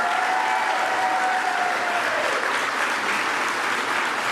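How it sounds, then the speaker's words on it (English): Audience applause at a political event, a sustained dense clapping that stays loud and even throughout, with a faint voice briefly audible under it. "I applaud Teresa, and I know we all do"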